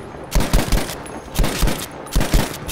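Bursts of automatic gunfire in the Battlefield V video game: three clusters of rapid, loud, close shots separated by short pauses, with no talking.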